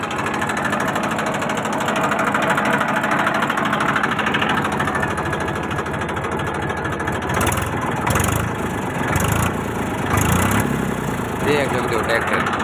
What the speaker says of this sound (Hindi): तो एक बार मैं इस ट्रैक्टर को स्टार्ट कर आप लोगों को बता देता हूँ कि स्टार्ट में क्या प्रॉब्लम है क्या नहीं है।